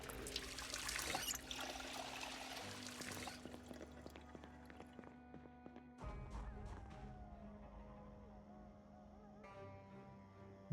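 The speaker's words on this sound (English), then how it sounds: "actually I did forget to fill up my water." Water being filled up in the Project Zomboid survival game, a trickling, pouring stream for the first few seconds, then quieter game ambience with faint clinks and a low steady hum.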